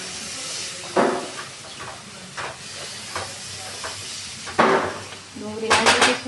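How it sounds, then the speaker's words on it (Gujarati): Chopped onion sizzles and hisses in hot oil for a Gujarati kadhi tempering, with occasional sharp clinks and scrapes of a utensil against the pan. "ડુંગળી નાખી દીધી છે, હવે આપણે હળદર મિક્સ નાખી દઈએ એટલે ડુંગળી ચડી જાય"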